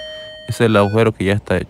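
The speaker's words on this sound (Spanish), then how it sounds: "Este es el sonido de la alarma, ¿no? Del trabajo," A short electronic workplace alarm tone at a job site in Japan sounds at the start, then a person speaks over the quiet background.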